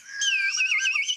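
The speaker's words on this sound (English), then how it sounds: "you have some bird whistles beside you" A small handheld bird whistle is blown in one continuous warbling, chirping call lasting about a second, near and fairly loud, with no talk.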